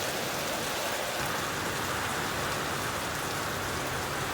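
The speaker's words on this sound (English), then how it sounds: "little bit of rain coming around." Steady early-morning rain falls continuously on surfaces at a work site, a dense, even hiss with no voices.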